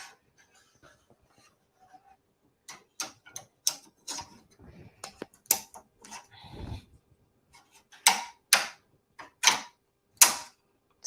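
A home embroidery machine working on a towel, with sharp mechanical clicks and snaps as its parts lock into place, scattered at first, then louder and more regular near the end, with a brief low rumble in between.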